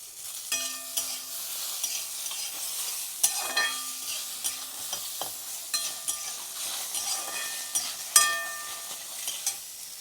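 Tomatoes go into an oil-free pond fish curry and get stirred, with repeated metallic spoon scrapes and clinks against the pan over a soft low sizzle, close and alone without talk.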